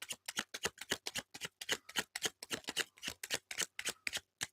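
Tarot cards shuffled in steady, rapid riffles, about twenty crisp bursts in a quick even rhythm, close and clear with no talking.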